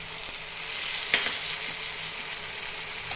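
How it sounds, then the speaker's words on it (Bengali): Chopped onion and jackfruit seeds fry in oil with a steady, dense sizzle from start to finish, marked by one brief metallic clink of a utensil partway through. "কুচিয়ে রাখা পেঁয়াজটা দিয়ে দিলাম"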